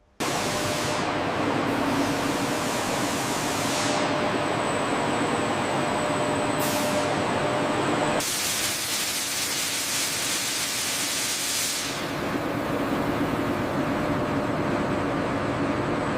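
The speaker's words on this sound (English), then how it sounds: "Electrostatic spray systems apply a high-gloss white coating that protects the Maglev body" An electrostatic spray system coats a maglev train body in high-gloss white paint, giving a loud, continuous broadband hiss that holds steady with brief shifts in brightness.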